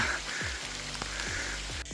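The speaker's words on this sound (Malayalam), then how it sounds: "നല്ല മഴ കേട്ടോ" Dense, steady hiss of heavy rain pouring down in a forest, with a few faint swooping tones beneath it.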